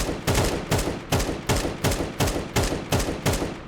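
AK rifle fired in slow single taps in the Counter-Strike 2 video game: nine evenly spaced, loud shots about 0.4 seconds apart, each with a brief decaying tail, no speech.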